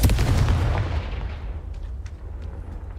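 The Confringo blasting spell in the video game Hogwarts Legacy, a single heavy booming explosion up close that decays into a rumbling tail with faint crackles.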